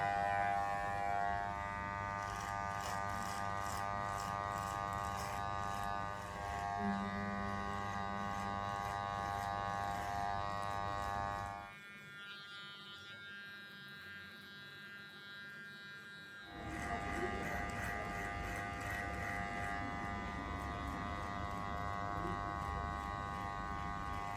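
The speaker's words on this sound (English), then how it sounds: "I'm going to use the main clipper" An electric hair clipper cutting hair during a self-haircut gives a loud, steady motor buzz with a high whine. It drops to a faint hum for a few seconds, then returns at full strength, with no one talking.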